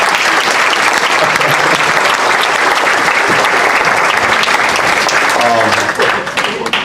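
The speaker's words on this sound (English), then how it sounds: "can we get another round of applause for the gentleman?" Another round of applause for Representative Bartlett at a launch party, loud continuous clapping from the crowd that begins to thin near the end, with faint voices underneath.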